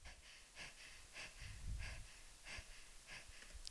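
Rhythmic breathy panting, quick airy puffs repeating about every half second, fairly quiet and close, with no talking.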